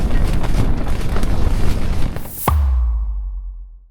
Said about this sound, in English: I can tell you the wind doesn't help